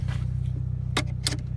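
A Chevrolet Cobalt with a failing transmission idles with a steady low engine drone throughout, while two short bright mechanical clicks or ratchets from the handbrake being released stand out near the end.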